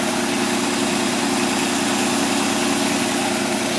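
A 4.3-liter Chevy engine in a Celebrity ski boat idles with a steady, close, even rumble that holds unbroken throughout.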